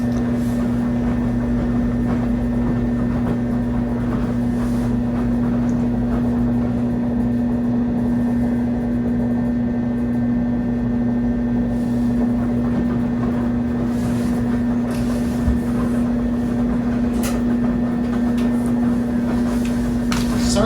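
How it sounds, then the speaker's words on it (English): A dryer motor drums out a loud, steady low hum while tumbling a blanket, unbroken for about twenty seconds with faint background clatter. "the motor tends to hum really loudly for whatever reason when we dry blankets"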